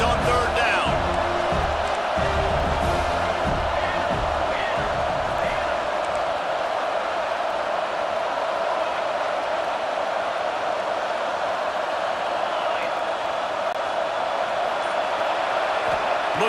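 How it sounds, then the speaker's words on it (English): Football stadium crowd roaring as the defense faces third down, a dense, loud, sustained wall of crowd noise that runs through the whole stretch while a commentator talks over it. "Decibels rising as the crowd gets behind this defense on third down."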